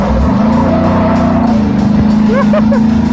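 A rear-engine mini truck's small engine drones loudly and steadily at close range on a road course, with a buzzing note, a brief chirp near the end, and a voice speaking over it.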